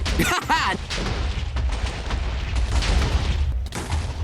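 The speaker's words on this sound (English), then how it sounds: "Nothing can be returned after the explosion." A TNT dynamite blast in Minecraft erupts as a loud, sustained broadband roar and rumble lasting several seconds, with a brief voice-like tone at the very start.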